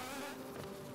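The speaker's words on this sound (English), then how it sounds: "Because that is a terrifying bee." Close, steady insect buzzing from a bee enemy in the video game Hollow Knight, a dense droning whir that fills the whole moment with no talk over it.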